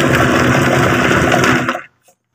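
A rotary tumbler loaded with copper-nickel coins, dishwashing soap and toothpaste churns with a dense, steady rumbling whir, loud and close, then winds down and stops abruptly.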